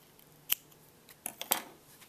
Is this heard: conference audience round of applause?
no